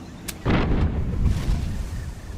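A pirate ship's broadside cannon fire in a naval combat video game, a sharp crack followed by a heavy booming blast that rumbles and slowly fades.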